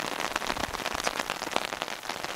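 Steady rain falling on a surface during a winter day of mixed sleet, snow and rain in upstate New York, a dense continuous patter that is loud and close with no voices.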